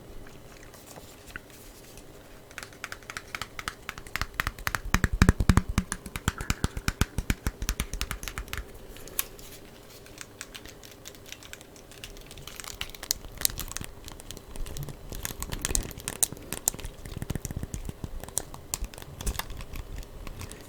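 Dense, irregular clicking and tapping from Nintendo Switch controller buttons being pressed up close, with a soft crinkly texture throughout and no speech.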